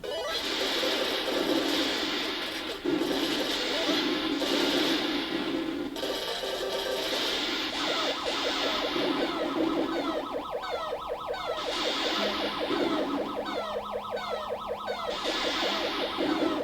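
Several miniature 1943 arcade cabinets play their game sounds at once: a continuous, dense clutter of electronic siren-like warbles, rapid bleeps and explosions layered loudly over each other without a break, with no speech.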